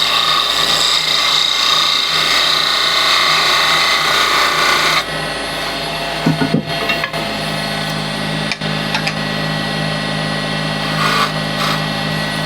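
A gouge cutting red resin and gum wood on a spinning lathe, a loud continuous rasping scrape over the motor's hum that stops abruptly partway, leaving the lathe whirring with a few light taps.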